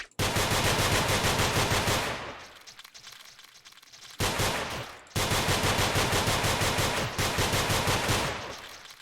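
Loud, sustained machine-gun-style bursts from Nongunz: Doppelganger, a long rattling stream that briefly fades, then resumes in two more dense volleys.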